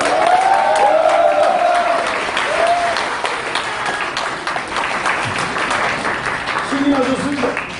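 Loud applause from a large crowd fills the whole stretch, with voices rising over the clapping now and then.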